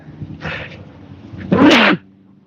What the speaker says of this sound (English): Oh man, that was a sneeze and a half.